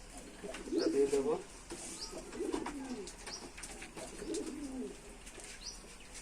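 Giribaz pigeons coo in soft repeated bursts, close but quiet, with a few faint chirps and someone talking in the background.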